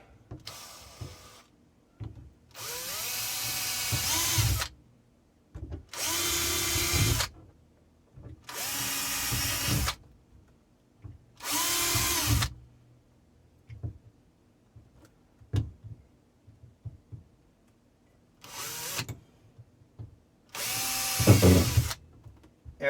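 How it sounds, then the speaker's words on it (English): Power drill boring holes through a plastic water tank in repeated bursts of whining, grinding drilling, about seven separate runs with quiet pauses between them, close and clear. "And then we're going to do a drill."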